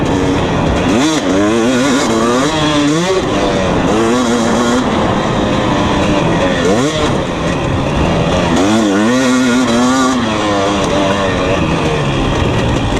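A 2020 KTM 250 SX two-stroke dirt bike roars loudly and continuously while being ridden, its engine note climbing and dropping repeatedly through revs and gear changes.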